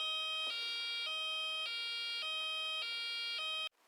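A homemade hee-haw police siren circuit alternates between two electronic tones in a steady two-tone cycle, loud and close, stopping abruptly at the end.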